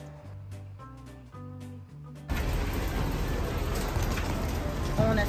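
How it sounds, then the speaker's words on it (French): Steady rain falls outdoors in Miami, a dense, loud hiss that starts abruptly after a few seconds of quieter tonal sound and then continues evenly to the end. "Je me prends la pluie, pas fun."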